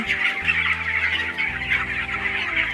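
Chickens clucking in a poultry farm shed, a dense, continuous chorus of many birds close by, with overlapping clucks and calls and no voices.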